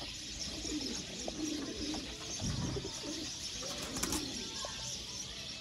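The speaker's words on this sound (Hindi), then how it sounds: "सियालकोटी कबूतर" Sialkoti pigeons cooing at a breeder's loft, soft repeated coos and calls at low level over a constant background hiss.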